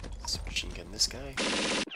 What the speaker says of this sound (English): Machine gun this guy.